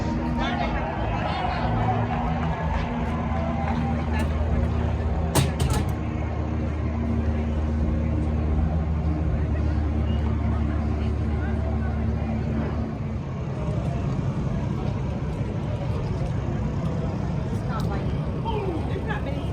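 Engines of NASCAR Xfinity race cars fire up and idle in a loud, low, steady rumble at the track, with a sharp burst partway through and voices talking over the din.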